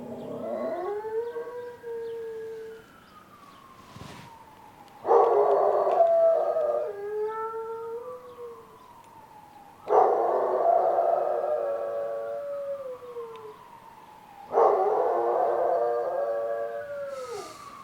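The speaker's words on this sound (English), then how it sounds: "She's gonna start howling." A female dog howls in long, wavering, siren-like cries, repeated in about three close, loud bouts with brief pauses between them and no talking.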